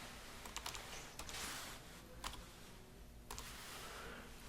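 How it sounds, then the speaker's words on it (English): Quiet, close typing on a computer keyboard, with a few quick bursts of key clicks and short pauses between them, and no voices. "So I'm going to type that in."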